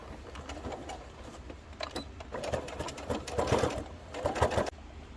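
A sewing machine runs in short bursts while stitching a padded-lined round zipper pouch, its rapid mechanical chatter rising and falling between pauses, close and fairly quiet.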